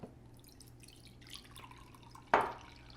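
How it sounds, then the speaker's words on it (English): Water trickles from a Brita filter jug, faint and close, with a brief louder splash near the end, no talking. "Hopefully my little Brita will fill up 2 cups of this."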